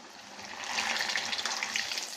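Hot oil sizzling steadily in a pan, a dense continuous hiss that swells slightly and holds, close and moderately loud, with no talking.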